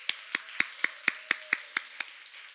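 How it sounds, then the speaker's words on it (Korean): Nine sharp, evenly spaced claps at a church service, crisp and close with a steady rhythm about every quarter second and quiet gaps between them, no talking. "우리 박수 한번 하겠습니다."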